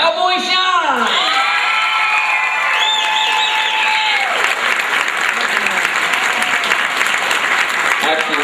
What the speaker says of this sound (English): Ladies and gentlemen, a warm round of applause for our winner in the singing category, Cowboy Sean!